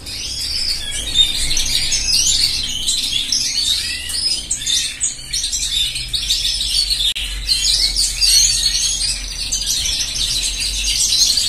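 Several male cage birds sing in a flight cage, with dense, overlapping high chirps and trills running continuously, loud and close, and no voices over them.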